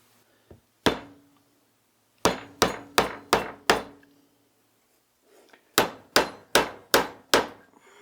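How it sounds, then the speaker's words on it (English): A hammer strikes a socket to drive a fork seal into a Honda CB250RS motorcycle fork leg: sharp, close metallic knocks, one early blow then two bursts of five evenly spaced hits, with quiet gaps between. "using the correct size socket to drive the seal in"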